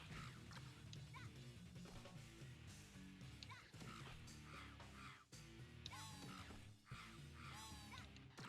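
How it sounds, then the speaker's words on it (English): A crow in the PS2 game Splatter Master makes odd cawing calls amid dense game music and effects, with several sharp bird-like cries standing out over the busy, steady mix. "That's an interesting noise for a crow to make."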